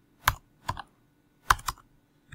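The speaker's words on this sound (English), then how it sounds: "So let me help you type them out." Computer keyboard keys are tapped in a few quick, close clicks, two pairs of strokes and a faint final tap, with no talking.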